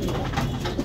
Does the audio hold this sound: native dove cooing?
yes